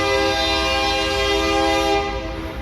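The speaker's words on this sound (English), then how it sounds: "There's a choo-choo train coming through." A train horn sounds long and loud as a train passes through the French Quarter of New Orleans, a steady sustained blast over rumbling rail noise that fades slightly near the end.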